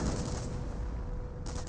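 A grenade blast and gunfire, including MP40 fire, in the Company of Heroes 1 video game: a dense, loud barrage of booms and shots merging into a continuous rumble, with no voices.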